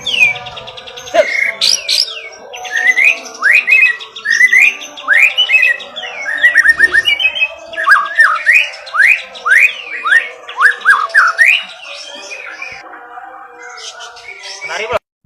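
An oriental magpie-robin (murai) sings a long, varied run of bright whistled phrases and rapid trills, close and loud, with short pauses between bursts and no talk over it.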